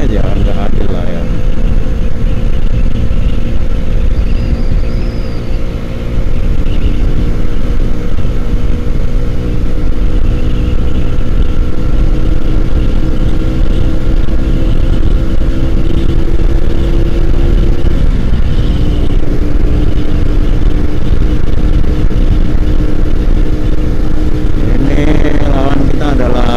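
Suzuki Satria FU 2009 motorcycle ridden at speed, engine held at high revs in a loud continuous drone with pitch shifts as it changes gear, wind noise and a voice talking over it.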